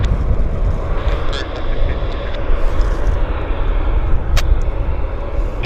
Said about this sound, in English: Nice landing on the Air Canada.